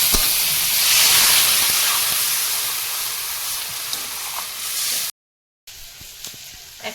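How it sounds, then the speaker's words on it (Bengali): Water poured into a pan of sautéed potatoes sets off a loud burst of hissing steam that slowly fades, with a short silent gap near the end before the softer sizzle returns. "আলু ভালো করে কষিয়ে নিয়েছি এবারে জল দেবো"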